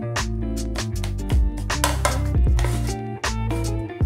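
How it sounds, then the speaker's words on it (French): Warm sushi rice being folded with vinegar using cutting strokes, a run of steady, close scraping and tapping knocks of the paddle against the bowl, with no talking. "on ne mélange pas le riz comme ça va l'écraser. On fait des mouvements de coupe"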